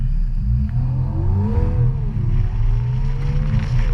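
A green Aston Martin DBS Superleggera pulls away on a UK road, its engine note rising in a loud, steady acceleration with a sweeping upward pitch, close and continuous throughout.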